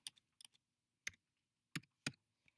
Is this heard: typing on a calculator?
yes